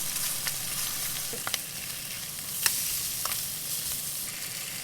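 Bacon frying in a pan for a full Australian breakfast, a continuous close crackling sizzle with sharp pops and spits scattered through it, no voices.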